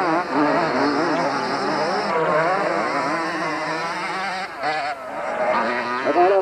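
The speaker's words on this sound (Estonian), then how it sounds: "Praegu tundub küll, et mootorid töötavad laitmatult" Motocross motorcycle engines at a 1992 race in Tahula drone continuously, their pitch wavering up and down as the bikes rev and ease off, heard from a moderate distance with no talk over them.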